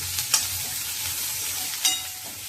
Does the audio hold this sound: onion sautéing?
yes